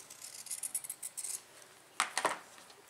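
Scissors snip through printed fabric labels in a quick run of small, crisp cuts, followed after a pause by a few louder, sharper snips, all close and quiet with no talking.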